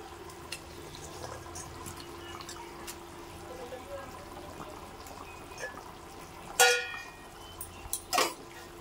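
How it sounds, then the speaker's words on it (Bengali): Fish curry simmers quietly in a pot after the fish pieces go in, a faint low bubbling that runs throughout, broken by a couple of sharp clinks of utensil against pan near the end. "ঝোলটা ফুটতে থাকে"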